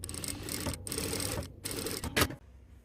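A sewing machine with a Teflon presser foot stitches stretch mesh fabric, giving a steady fast mechanical whir in short bursts with brief pauses, close and fairly loud.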